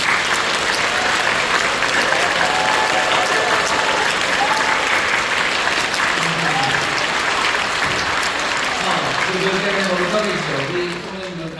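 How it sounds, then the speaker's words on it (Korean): A church congregation applauds warmly during a New Year's Eve worship service, dense continuous clapping filling the room, with voices emerging near the end as the applause tapers. "인사할 때 우리 뜨겁게 박수를 격려해 주시기 바랍니다"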